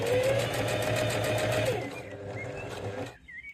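A sewing machine runs a steady, close whirring stitch as it edge-stitches the strap of a market tote bag, then slows and stops after about three seconds.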